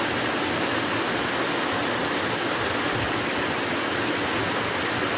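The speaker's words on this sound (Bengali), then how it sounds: "বাইরে বৃষ্টি হচ্ছে তা বৃষ্টিটা দেখাই" Steady, dense hiss of heavy rain pouring down, loud and unbroken throughout, with no voices.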